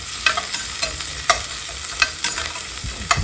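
Crushed onion, ginger, cumin and turmeric fry in a pan for mutton masala. A spoon scrapes in irregular strokes over a continuous close sizzle.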